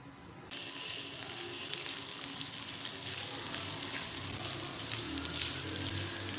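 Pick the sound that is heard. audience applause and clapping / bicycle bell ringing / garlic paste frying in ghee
garlic paste frying in ghee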